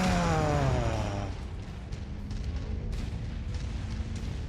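A mech explodes in the MechWarrior 5: Mercenaries video game, a loud close blast with a falling roar that fades into a rumbling, crackling tail.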